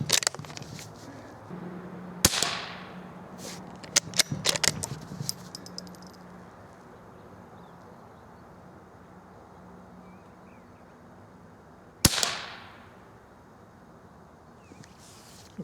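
Remington CBEE .22 Low Noise rifle rounds go off as sharp single cracks: a few quick reports early on, then a lone shot near the end, each with a short fading tail over quiet outdoor background.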